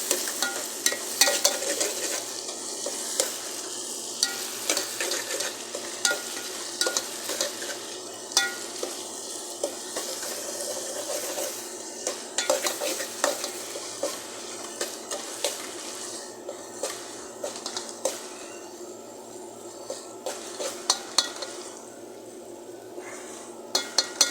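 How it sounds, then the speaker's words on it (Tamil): A spatula stirs vegetables and rice frying in a pan for a beet curry, scraping and clinking against the metal in irregular bursts over a constant sizzle, close up with no talking. "கொஞ்சம் கிண்டி விட்டுக்கலாம்"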